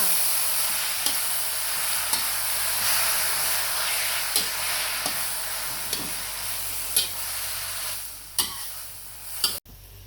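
Seasoned vegetables, ivy gourd leaves among them, stir-fried in a hot pan with a steady loud sizzle, broken by repeated sharp scrapes and clacks of the spatula, and a louder clatter near the end.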